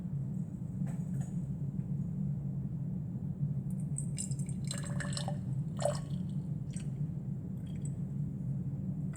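Liquid poured from a bottle into a graduated cylinder in a chemistry lab gives faint trickles and small drips midway through, heard alone over a steady low room hum.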